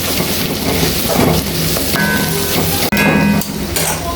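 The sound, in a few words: crushed ginger and garlic sautéing in a pan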